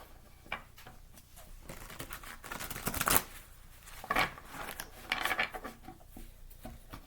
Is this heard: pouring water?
no